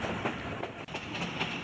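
Millat Express passenger train running on rails toward a curve, a steady loud rumble with rhythmic clickety-clack wheel beats throughout, no voices.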